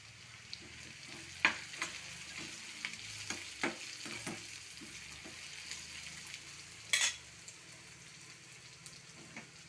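Curry leaves drop into a hot pan for paneer chilli curry and sizzle faintly, with scattered pops and crackles and a brief louder spatter near the end, and no talk.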